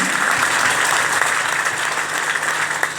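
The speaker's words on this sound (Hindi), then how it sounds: "इसलिए हम जोरदार तालियां बजाकर उनको धन्यवाद देते हैं।" A seated audience gives vigorous thanks with loud, continuous applause, a dense wash of many hands clapping at an even level for the whole stretch, with no speech over it.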